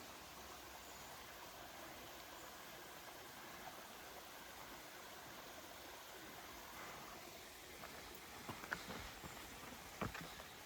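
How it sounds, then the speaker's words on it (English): Steady, broadband rushing water like a waterfall, constant and fairly distant, with a few faint clicks near the end and no voices. "You can tell we hadn't seen a waterfall in a while."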